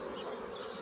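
Honeybees on a hive frame give off a faint, steady buzzing hum for under a second, with no break.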